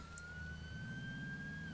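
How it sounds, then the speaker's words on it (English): Police siren from a patrol vehicle in GTA 5, a steady high wailing tone sustained through the short stretch over a low engine rumble, close and alone without speech. "You have your siren on now?"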